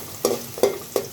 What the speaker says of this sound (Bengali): আমি পেঁয়াজটা সুন্দর করে ভাজি করে নেব, একটু কাঁচা ভাবটা যাতে চলে যায়